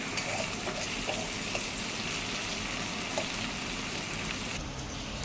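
Onions and tomatoes frying in a kadai, a steady hissing sizzle with small scattered clicks and pops, close and continuous, easing slightly near the end.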